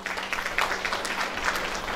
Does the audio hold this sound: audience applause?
yes